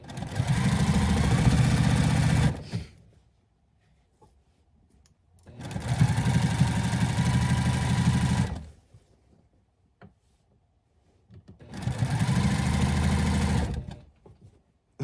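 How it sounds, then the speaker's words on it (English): A sewing machine stitching a fabric strip onto patchwork pants, three loud steady bursts of rapid whirring stitching, each a few seconds long, separated by quiet pauses with faint handling noises. "It's like we're sewing the pants back up again, but we have a strip that we're sewing onto it."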